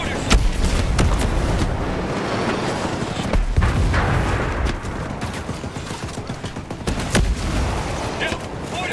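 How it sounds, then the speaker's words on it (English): Heavy mortar fire in Ghost Recon Breakpoint, with repeated booming blasts and scattered gunshots across a chaotic combat scene, while voices and game sounds churn underneath. "Well, watch out for mortars."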